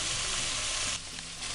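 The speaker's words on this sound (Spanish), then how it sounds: "Los pongo a tostar un poquito y les echo ya seguidamente la verdura." Chard tipped into hot olive oil with toasted garlic cloves crackles in a broad, close sizzle that dips slightly as the greens land and settle.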